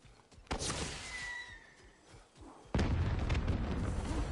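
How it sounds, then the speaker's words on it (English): Fireworks exploding in God of War Ragnarök, a couple of heavy booming bursts with crackling tails, the second louder and sustained, heard alone without talk. "Alright, it's fireworks."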